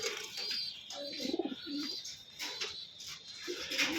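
Pigeons kept for sale coo in soft, repeated rolling calls, close by, with a few light chirps and faint rustling between them.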